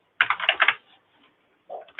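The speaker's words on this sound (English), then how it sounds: "just keep on typing." Computer keyboard typing while writing code: a close, loud flurry of rapid key clicks, then a pause and a second short burst of keystrokes at the end.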